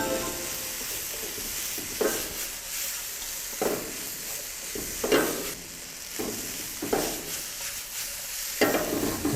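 Squid and green onion stir-fried in a seasoning sauce in a pan, a steady loud sizzle broken by repeated scraping stirs every second or so, close up.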